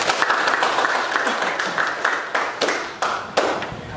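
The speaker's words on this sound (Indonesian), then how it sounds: "berikan tepuk tangan untuk Ababil." Students in a classroom clapping for a classmate, a loose patter of hands with several sharper individual claps standing out near the microphone, fading and thinning toward the end.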